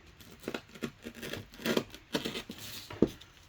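Scissors snip and tear through the fabric strap of a CAT tourniquet, giving a series of close, uneven crunching cuts and rustles that end in a sharp final snip.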